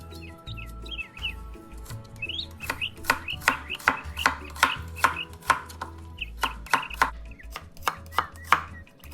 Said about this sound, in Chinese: 洋葱1个，切细后加入。